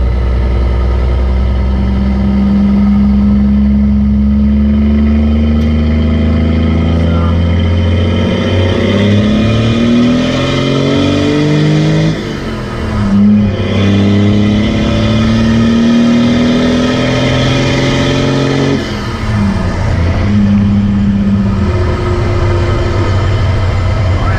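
A 12V tow rig truck accelerates hard through third and fourth gear, its loud, steady engine note climbing in pitch, briefly dipping at each gear change, then rising again.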